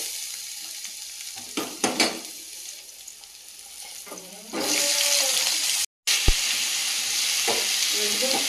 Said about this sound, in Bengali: আর আলু ভাজাটা চাপিয়ে দেবো।